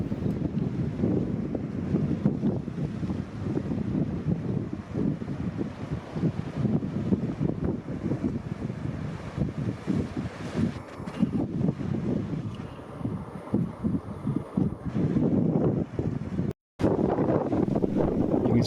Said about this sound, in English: As you'll hear, it was a windy and cold day.